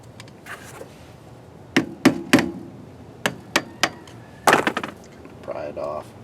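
A hammer gives a series of sharp, close knocks in short clusters on front brake parts of a third-generation F-body car, with quiet gaps between strikes and faint talk near the end.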